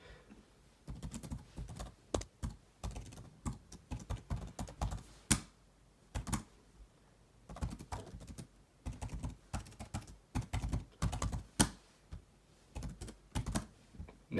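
Computer keyboard typing in quick irregular bursts of clicky keystrokes, close and fairly quiet, with short pauses between runs while commands are entered over an SSH session.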